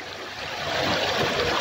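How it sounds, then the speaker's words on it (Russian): A small mountain spring in the Kharachoy hills of Chechnya flows as a steady, close, broadband rushing and gurgling that swells slightly and continues alone. "вот такой вот родничок течет"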